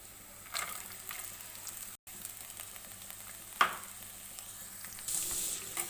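Chopped coconut fries in a pan for coconut pickle, a soft, steady sizzle with occasional scrapes of stirring and one sharper clink, quiet and close, no voices.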